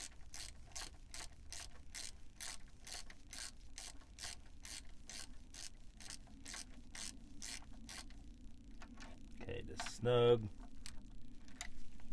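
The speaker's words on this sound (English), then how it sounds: "We'll go ahead and snug it up with our ratchet" A ratchet clicks in a steady, rapid run while snugging a bolt on a BMW M54/M52tu engine, then stops; someone speaks briefly afterward over a low background hum.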